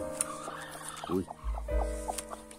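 A hen clucks a few times among other chickens on a farm, short throaty sounds close by, with a low rumble and some background noise around them.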